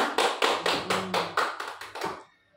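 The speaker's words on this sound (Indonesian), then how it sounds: "Oke, tepuk tangan dulu buat kita semua." A small group claps hands together in a brief round of applause at the close of an academic supervision coaching session, about nine distinct claps in an even rhythm, close and fairly loud, then fading out.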